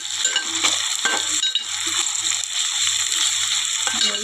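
Gongura leaves and tomatoes are stirred in a frying curry, a steady sizzling hiss under scraping spoon strokes, close and fairly loud, with a low hum beneath and no voices.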